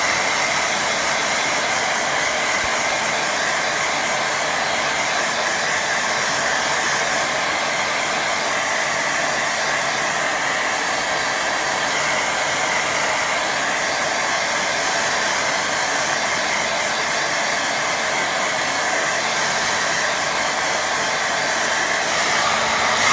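A hair dryer drying a small pond watercolour painting blows in a steady, loud, close whoosh that runs unbroken the whole time, with no voices.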